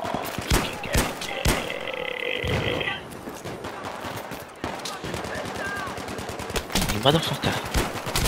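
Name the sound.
gunfire in video game Battlefield 3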